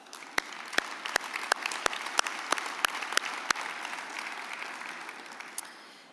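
Conference audience at a transportation association lunch claps in appreciation, a warm, dense round of applause with sharp individual claps on top that holds steady for several seconds before tapering off.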